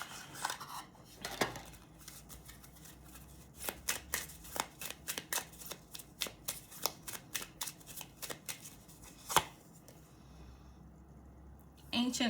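A tarot deck being shuffled by hand in quick riffling bursts, with cards snapping and rustling close by, then a short pause and more handling.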